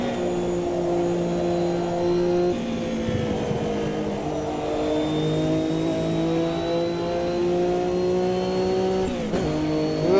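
Race car engines in the racing video game Automobilista 2 roar and rev continuously, with several cars droning together and shifting pitch up and down over a steady, loud engine bed, no talking.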